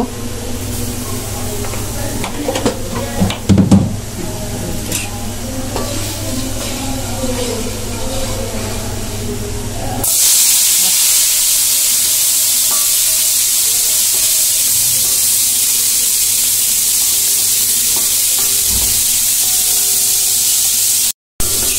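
Shutki (dried fish) frying with turmeric in a pan: after a stretch of mixed kitchen clatter and background noise, a loud, steady hiss of sizzling oil takes over and holds close and even until the end.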